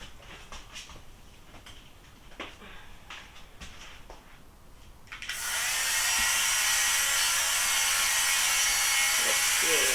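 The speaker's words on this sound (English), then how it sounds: "I'm gonna do a little sweater shave." An electric fabric shaver de-pills a sweater, starting about halfway through with a loud, steady high whir that continues to the end after a few quiet clicks and handling sounds.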